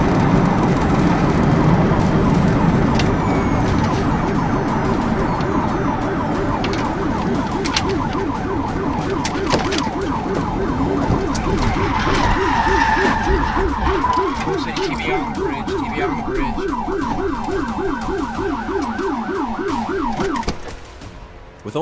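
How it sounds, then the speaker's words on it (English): Police car sirens wail continuously during a high-speed chase, a rapid warbling yelp cycling over engine and road noise, loud and close throughout, fading briefly at the end. "Lights and sirens filled the air"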